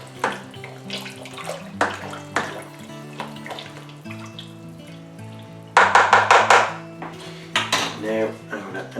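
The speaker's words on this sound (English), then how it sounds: "I'm going to give this a quick stir in first of all." Stirring an apple cider kit in a plastic fermenter before adding yeast, heard as repeated scraping clunks and sloshing liquid swirls in uneven bursts, fairly close and with no talk.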